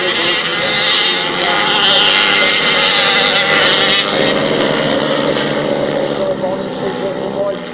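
Youth grasstrack motorcycles racing at the 2018 British championships make a steady, loud, buzzing engine drone down the back straight. A commentator talks over the noise throughout.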